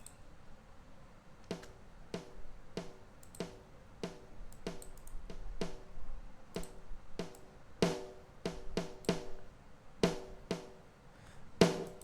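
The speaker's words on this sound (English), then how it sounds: "my own snare which sounds like this without any" Dry, sharp snare hits repeat in a steady pattern, crisp and close with no echo, some strokes louder than others.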